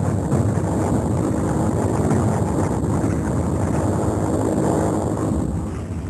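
Japanese bomber engines over Manila in early December, World War II, make a continuous heavy, rushing drone with a grainy wind-like roar that stays loud for the whole stretch on old archival film.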